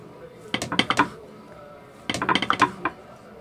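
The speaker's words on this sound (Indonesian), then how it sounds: "Nah pokoknya diiris sampai habis lah ya itu." A knife slices through a slab of tempe in two quick bursts of rapid, crisp taps against a board, separated by a short pause.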